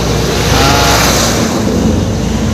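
Toyota Corolla engine idling after an oil change, a steady dense broadband running hum with no talk over it, close and fairly loud throughout.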